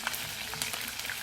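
Pepper sizzling in hot oil in a non-stick pot at an outdoor Jamaican-style cooking setup for escovitch sprat, a steady broadband frying hiss with small crackling pops throughout.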